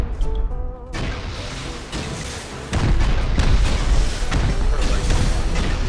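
Rocket explosions in the video game Rust, several heavy booming blasts in rapid succession, loud and close, with dense crashing debris and rumbling between the hits.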